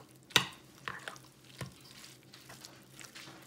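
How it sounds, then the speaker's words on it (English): Noodlefish cake batter being mixed in a bowl, soft wet squelches and scrapes with a few sharper clicks of the utensil, close and quiet. "Okay, so mix up the whole thing."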